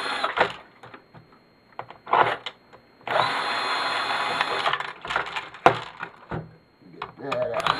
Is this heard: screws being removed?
yes